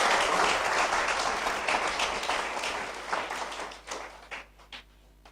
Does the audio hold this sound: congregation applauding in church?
yes